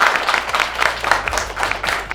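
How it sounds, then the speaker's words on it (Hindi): Young children at an environmental protection activity clap together in a brief, loose round of applause, with many small hands patting unevenly at close range and no voices on top. "एक बार तालियां बजा दो आप सारे।"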